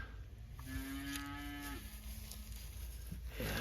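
A cow from a pregnant herd on winter stockpile grazing lets out a single long, steady moo. The call is fairly close, with a faint rise in pitch at the end, and no talk is heard.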